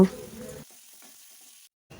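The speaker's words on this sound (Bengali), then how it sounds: "এবার আমি কড়াইয়ে সামান্য তেল দিয়ে নিম পাতাগুলোকে ভালো করে ভেজে নেব।" Neem leaves fry in a little oil in a wok, a short close sizzle and crackle that quickly fades to a faint hiss before cutting out.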